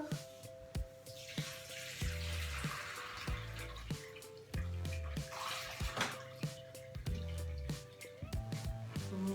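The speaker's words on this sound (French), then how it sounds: "on va verser le contenu de notre récipient dans ce petit moule" Curdled milk is poured from a container into a small cheese mold, giving a close, wet splashing and trickling with soft squishy plops and drips in an irregular rhythm.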